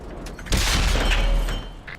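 A single heavy, booming tank cannon shot in World of Tanks from the Spähpanzer 1 C, a loud low blast that rumbles and fades over about a second before light mechanical clatter.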